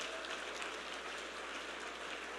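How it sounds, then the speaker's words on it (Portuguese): A church congregation at a Sunday evening service claps steadily and vigorously in praise, a dense, even wash of applause with no voices over it. "Aplauda bem forte ao Senhor."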